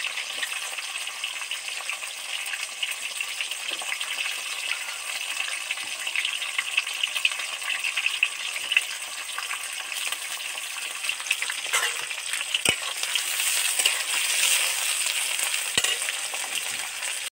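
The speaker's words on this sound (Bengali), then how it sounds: "সবজিটা তেলের মধ্যে উঠিয়ে দিয়েছি" Pointed gourd and snake gourd frying in oil in a pan, a continuous hissing sizzle heard close and steady throughout, with a few faint utensil clicks and no speech.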